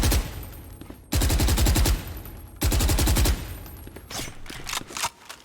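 Weapon fire in Valorant comes in two loud, close bursts of rapid rhythmic shots, each roughly a second long, followed by scattered lighter shots and game ambience.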